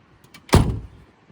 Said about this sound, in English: watch this door close